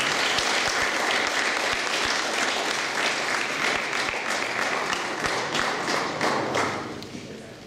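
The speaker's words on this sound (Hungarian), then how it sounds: "Egy nagy tapsot kérnék szépen a csapatnak és Babos Bencének." An audience at a Gyula Termál FC youth football team ceremony gives the team a big round of applause, steady and loud throughout before tapering off in the final second.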